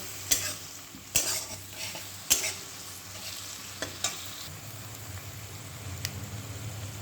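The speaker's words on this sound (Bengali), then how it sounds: "সব মশলাগুলো একটু ভালো করে নেড়ে চেড়ে নেব।" Spices and turmeric stirred in a frying pan, with a low steady sizzle broken by several sharp scraping clacks of the spoon against the pan, spaced irregularly across the stretch.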